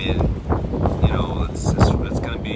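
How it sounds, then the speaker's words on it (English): Strong gusty wind buffets the microphone with low rumbling roar while a person talks over it, the noise rising and falling throughout. "it's really windy out here"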